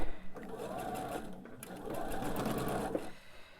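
Close whirring run of a sewing machine stitching a fabric quilt block, starting after a short pause and continuing steadily, with someone talking over it.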